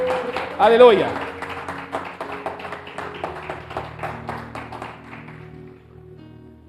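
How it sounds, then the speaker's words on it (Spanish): A church congregation applauds after a sermon, a sustained patter of many hands clapping under a voice, fading gradually over several seconds. "ese aplauso se lo va a dárselo fuerte al Señor"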